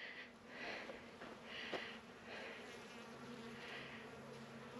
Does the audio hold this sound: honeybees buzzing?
yes